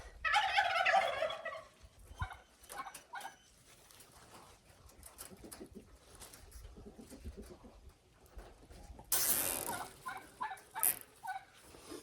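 Turkeys gobble in loud bursts at the start and near the end, with quieter bird chatter and rustling in between.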